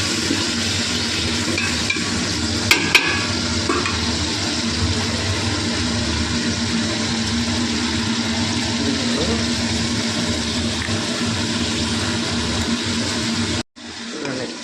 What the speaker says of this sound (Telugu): కూరగాయలన్నీ బాగా ఆయిల్లో మగ్గిపోయాయి